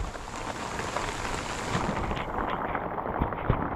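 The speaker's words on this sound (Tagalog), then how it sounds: "Lakas ang ulan." Heavy rain pours down steadily during a rescue and release of a rail bird, a dense unbroken hiss with occasional heavier drops and thumps close by, and no voices.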